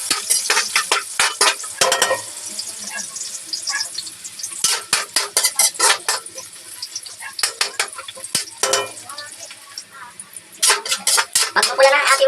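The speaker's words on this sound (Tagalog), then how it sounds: "Pagkatapos sa sibuyas, lalagyan natin ng luya. Halo-halo natin" Onion, ginger and garlic sauté for a mussel stir-fry, with repeated quick clacks and scrapes of a spoon against the pan over a light sizzle, the stirring coming in bursts with short pauses.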